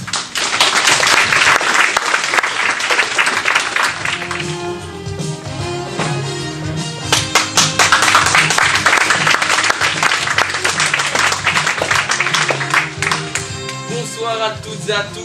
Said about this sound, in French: On peut les applaudir bien fort.